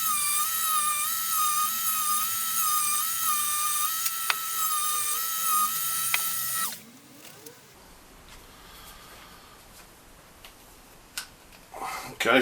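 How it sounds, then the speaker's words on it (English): A high-pitched rotary tool with a straight burr carves an eye into a Pacman ghost figure, a close, steady whine with slight pitch wobble and a few clicks. It cuts off after about six seconds, leaving quiet room noise and faint handling. "that was a sort of straight burr"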